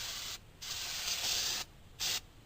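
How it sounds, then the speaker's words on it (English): Brake parts cleaner sprayed from an aerosol can onto a Jeep Cherokee brake rotor, in three close, loud hissing bursts: a short one, a long sustained one, then another short one. "Give it a little spray down with some brake parts cleaner."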